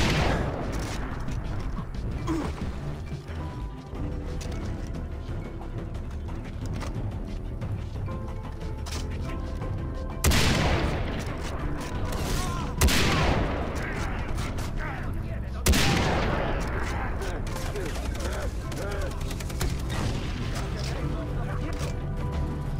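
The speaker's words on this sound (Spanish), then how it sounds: "Cómo revienta este sniper, es increíble." Sniper rifle in the video game Far Cry 6: three heavy, booming shots a few seconds apart stand out over a steady game soundscape, with someone talking through much of the stretch.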